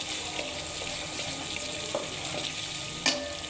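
Milk pours into a hot pan of fried spices while cooking pulao, a steady wet sizzle and trickle running throughout with a brief louder splash near the end.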